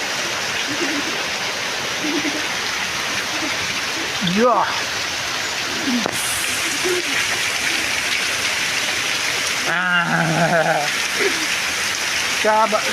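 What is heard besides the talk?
heavy rain with thunder in Thadgam village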